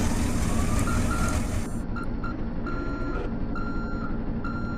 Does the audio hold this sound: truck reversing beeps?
yes